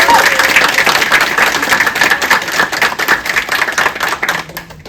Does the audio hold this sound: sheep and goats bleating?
no